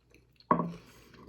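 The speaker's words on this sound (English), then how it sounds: "I'm gonna take a bite of this here taco." A bite into a taco topped with smoky salsa, one short crunchy, wet bite close to the mic in a quiet room, with chewing fading after it.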